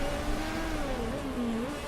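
A race car engine in the Motorsport Manager video game drones steadily with a clear pitched tone that wavers and dips slightly, a continuous moderately loud motor note with no talk.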